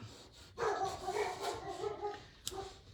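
Dogs barking indoors, a run of mid-loud barks and yips lasting a couple of seconds with a sharper bark near the end, no talk over them.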